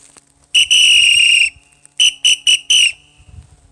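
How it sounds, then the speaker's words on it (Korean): A loud, shrill hiking safety whistle blown in one long blast, followed by four short sharp toots in quick succession, with quiet in between. "여기 호루라기를 늘 가지고 다닙니다."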